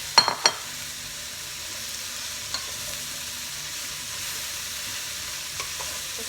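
Cabbage and ginger frying on high heat in a pan, a steady broadband sizzle throughout with a few sharp clatters of stirring near the start and occasional light taps.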